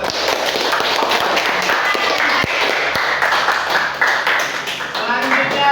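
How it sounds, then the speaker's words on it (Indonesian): Classroom applause for a student group, continuous scattered clapping from a small crowd throughout, fairly loud and close. "Tepuk tangan lagi untuk kelompok 1."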